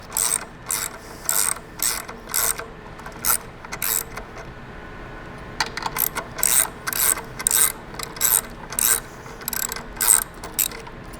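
A ratchet with a 1/2 inch socket removes 5/16 bolts from the mid-plate section of a Knight Light tower, giving repeated close bursts of sharp clicking separated by short pauses.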